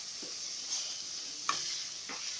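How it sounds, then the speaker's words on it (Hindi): Chicken mince frying and being stirred in a pan for a bakery-style chicken puff filling: a steady soft sizzle with a few light scraping stirs, close and fairly quiet, with no talking. "तो ये कीमा में साथ साथ भून रही हूँ।"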